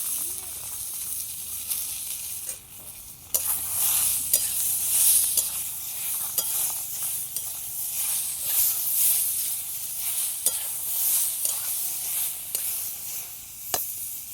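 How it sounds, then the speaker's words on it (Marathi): Tomato added to browned onion in oil in a pan, with a steady sizzle and hiss while a spatula scrapes and taps the pan now and then, close by and without talk. "कांदा चांगला लाल गरज भाजून घेतला आता तांबाट त्यात भाजून घेतो"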